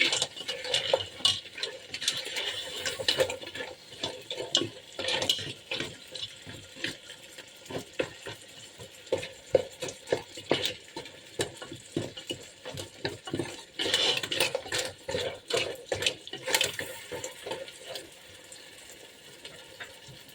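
A salted dish stirred in a pot with a utensil, quick repeated scraping and clinking strokes mixed with wet sloshing, close and fairly loud throughout.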